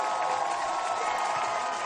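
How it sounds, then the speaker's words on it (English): A football stadium crowd at a homecoming game, a steady, broad roar of cheering voices holding at an even level throughout, distant and massed with no single voice standing out. "Crowd on its feet."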